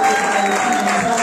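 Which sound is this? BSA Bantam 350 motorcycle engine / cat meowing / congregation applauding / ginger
congregation applauding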